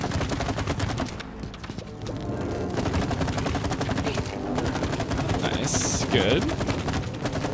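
Rapid bursts of gunfire in the co-op video game It Takes Two, dense and continuous over game music, with a voice speaking briefly.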